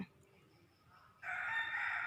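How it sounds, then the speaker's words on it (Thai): Rooster crowing at a forest temple in Thailand: after a quiet moment, one loud, fairly close crow starts midway and carries on to the end over faint background ambience. "ที่วัดเลี้ยงไก่ค่ะ เราจะได้ยินเสียงไก่เป็นระยะระยะ"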